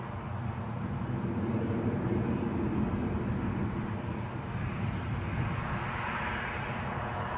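A Boeing 737 on the ground at Newcastle airport gives off a steady, broadband jet engine roar that holds at an even level throughout, with no talking.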